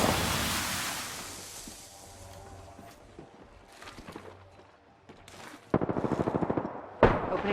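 In an Apex Legends battle, a fading burst of gunfire opens, followed by scattered quieter game sounds and then a rapid, loud machine gun volley near the end with a final sharp shot.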